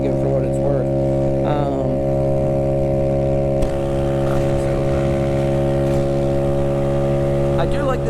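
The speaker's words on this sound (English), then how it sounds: "You just have that exhaust note to look forward to no matter what the speed is on these things." A stock-engined 49cc Honda Ruckus scooter running at full throttle, its exhaust giving a constant buzzing drone with a steady tonal whine throughout, heard close while the rider talks over it.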